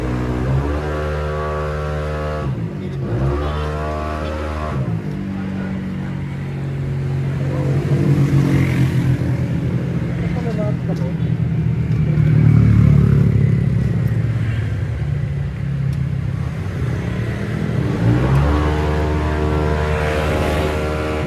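A Keeway 152 motorcycle engine revs on a dyno, its harmonic drone rising and falling through several long pulls, swelling to a loud rumbling peak midway before easing back to a steady idle.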